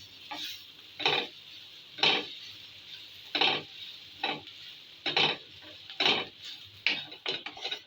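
Flour being dry-fried and stirred in a pan for chicken patty filling gives repeated scraping strokes, roughly one per second, close and moderately loud over a faint sizzle, with no talking.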